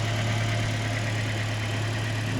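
A stock BMW 1 Series 1.6-litre four-cylinder engine idles under the bonnet with a steady, low, even hum that holds without change, quiet and close.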